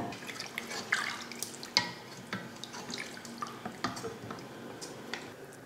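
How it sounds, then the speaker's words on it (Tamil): Water poured into a pot of rice for a lunch box dish, a soft, faint trickle with small splashes and drips, no voices. "இந்த டம்ளரில் 3 டம்ளர் தண்ணி சேர்த்துட்டேன்."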